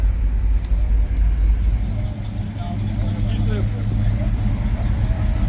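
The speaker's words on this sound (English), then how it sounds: "What am I doing driving a Porsche?" A Porsche drives during a rally event in Dallas, its deep engine rumble and road noise heard from inside the car while people talk over it.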